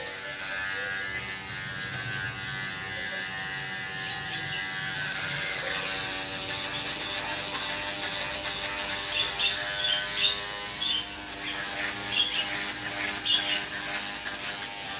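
Electric hair clippers trimming a person's own hair at home, a steady close buzz running throughout with small bursts and snips of cutting toward the end.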